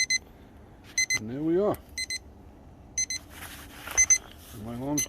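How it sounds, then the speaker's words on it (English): An alarm beeps in short, repeated electronic bursts during an outdoor winter barbecue of ribs on a Weber smoker. The beeps are clear and come in several groups, with someone talking between them. "My alarm's going off already."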